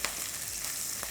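Green chili and ginger sizzle in hot oil seasoned with asafoetida, a steady bright hiss of frying with a quick stir that adds two soft clicks, one at the start and one near the end.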